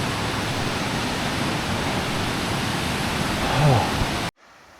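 A torrential creek rushes beside a snowy hiking trail in Idaho, a loud, steady, close roar of churning water that cuts off abruptly near the end.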